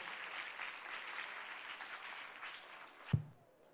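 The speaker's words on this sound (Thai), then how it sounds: "ขอเสียงปรบมือต้อนรับพิธีกรของเราในวันนี้" Steady applause from an audience at a Ramkhamhaeng University event in Thailand welcomes the host, filling about three seconds before stopping abruptly with a single close thump.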